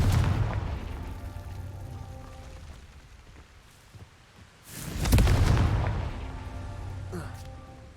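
A Confringo fire spell from the Hogwarts Legacy video game bursts midway in a sudden whooshing blast that fades slowly, over a steady rumbling game backdrop.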